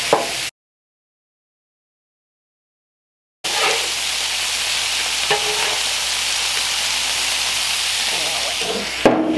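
Frozen peas and meat fry on a Blackstone griddle with a loud, continuous hissing sizzle, close by, after a stretch of silence, with occasional faint clinks of a spatula.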